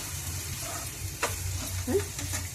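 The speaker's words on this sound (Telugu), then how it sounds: "ఇవి బ్రౌన్ కలర్ వచ్చేదాకా వేయించుకున్న తర్వాత మనం మటన్ ముక్కలు వేసుకుందామండి" Mutton pieces frying in a pan for a mutton curry, a steady close sizzle with occasional stirring scrapes and a brief clink, moderately loud throughout.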